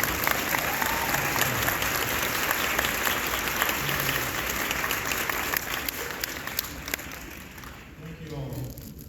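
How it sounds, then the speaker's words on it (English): An audience claps steadily for Steve Rees at a health event, a dense, sustained patter of many hands that carries through the whole stretch and thins a little near the end. "Everyone please give a round of applause for Steve Rees."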